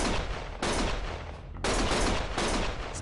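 Dense bursts of rapid gunfire ring out in a Lost Judgment game scene. Sustained volleys come close and loud, with two short gaps between bursts and no talking.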